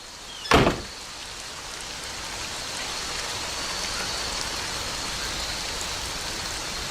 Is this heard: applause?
no